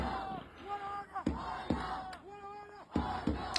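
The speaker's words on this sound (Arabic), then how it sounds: "شويه تشجيع من جمهور الاهلي على شويه تشجيع من جمهور الزمالك" Chanting and cheering from Egyptian football supporters of Al Ahly and Zamalek, a moderate crowd heard at some distance, rising and falling in rhythmic chant phrases with sharp bursts between.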